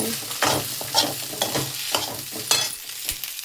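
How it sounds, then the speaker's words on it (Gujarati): Khichdi being tempered in hot oil in a home kitchen: a loud, close sizzle with rhythmic scrapes of a spoon stirring the pot about twice a second, no voices. "ખીચડી વઘારી છે"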